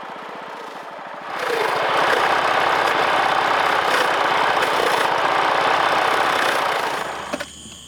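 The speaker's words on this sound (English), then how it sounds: "Lilia keeps the grinder running with fresh roots brought from below." Motorized grinder starting up and then running steadily while fresh manioc roots are fed in and ground to wet pulp, a loud continuous mechanical drone with a rattling texture that drops back near the end.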